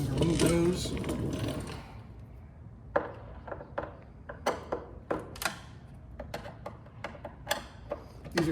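Captive quarter-turn fasteners being removed from the lower cowl of a Legacy aircraft: a brief voice at the start, then a series of sharp mechanical clicks and ticks spaced irregularly, close and moderately loud.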